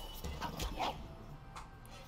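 A small cartoonish dog yipping and whimpering in the Legends of Runeterra card game, a few quiet, short yelps over soft game background sounds.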